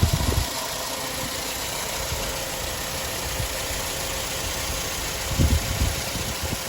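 A 1982 Mercedes 200 W123's 2-litre 4-cylinder carburettor engine idles steadily close by, a smooth, even mechanical hum with a faint ticking rhythm and no voices.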